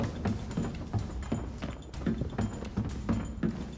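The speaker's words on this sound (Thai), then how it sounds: "ตอนนี้เสียงเท้าอยู่ข้างบนหัวเลยเลยนะ" Repeated dull footfalls thud at a steady walking pace, muffled as if coming from above, over a low background rumble, in the shooter game Arena Breakout.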